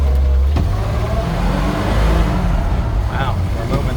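A 1974 Ford truck creeps along slowly in creeper gear with a low, steady engine rumble close up, while people talk over it.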